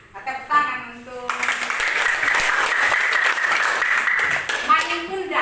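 Schoolchildren in a classroom clap together for the Malin Kundang story, a burst of lively applause that starts after a teacher's brief talk and fades as speaking resumes near the end.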